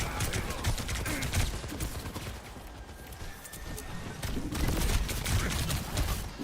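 Rapid bursts of video-game gunfire in Overwatch, dense and continuous, with clattering shots rising and falling in intensity over a busy game-sound bed.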